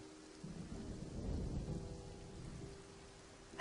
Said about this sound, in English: I love listening to the sound of rain, even though it doesn't really help much when recording.